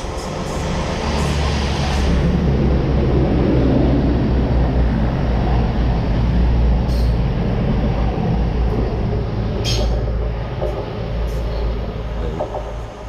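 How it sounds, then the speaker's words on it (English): A train rumbles past nearby with a deep continuous roar and rattling, fading slightly at the end, with a few sharp clanks. "Trains."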